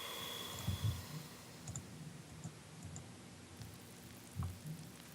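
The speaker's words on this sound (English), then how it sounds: "was a lot of the weird glitchy sounds" Weird, glitchy processed effect sounds from an electronic music track, heard alone as quiet low crackles and clicks with irregular bursts of thumps over a faint hiss.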